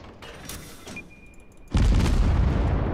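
A World of Warships naval gun salvo from the cruiser USA Omaha erupts as a loud, sustained roar after a quieter stretch of engine and ambient hum, the blast filling the clip's second half.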